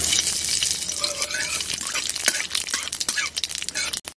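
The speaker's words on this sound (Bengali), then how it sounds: "এবার ফোড়নটা দিয়ে দিই, প্রথমে শুকনা লঙ্কা, পাঁচ ফোড়ন" Dry red chillies and five-spice seeds crackle and sizzle in hot oil in a village kitchen, a dense close-up hiss with scattered sharp pops and a few stirring scrapes, no talking.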